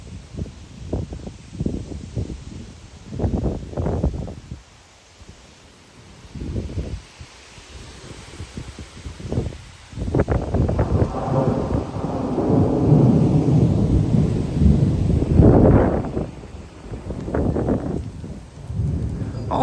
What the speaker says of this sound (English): this wind's picking up so hard right now, and there's lightning everywhere. And the rain's picking up.